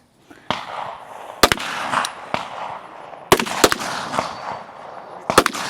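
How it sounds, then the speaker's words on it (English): Ten pistol shots fired through a wooden box during a women's elite stage at a regional shooting competition, sharp loud cracks arriving in scattered pairs and clusters over a reverberant outdoor background. "Brittany advancing to her pistol. So 10 shots through the wooden box."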